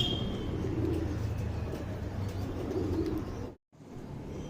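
A pigeon coos in low, steady murmurs close by, with a faint higher chirp near the start and a brief drop to silence toward the end.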